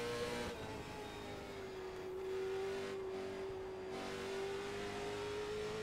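A Late Model Stock car engine in iRacing holds a steady revving drone on throttle, pitch easing slightly lower then level, close and continuous with no talk.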